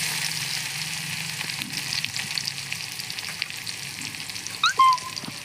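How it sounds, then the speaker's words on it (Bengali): Onion and garlic fry in a pan, a steady soft sizzle running throughout with light stirring scrapes, and a couple of sharper clinks near the end. "আমি পেঁয়াজ আর রসুন পরিমাণের মতন দিয়ে দেব। দিয়ে বেশ এটাকে নাড়াচাড়া করে"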